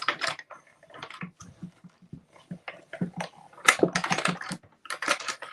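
Scissors snip and crinkle through thin silver foil in a quick series of close, sharp cuts with light rustling between them.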